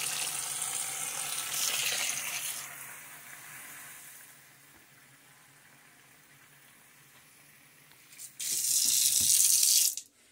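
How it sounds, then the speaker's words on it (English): Water gushes from a tap into a pot or kettle while tea with ginger is being made, loud bursts at the start and again near the end with a quieter trickling stretch in between. "We are going to add water to it."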